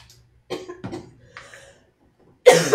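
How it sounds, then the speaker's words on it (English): A person coughs a few times, close and dry, in short bursts separated by brief silences, with a louder harsh cough at the end. "And yeah, I'm going to cough now."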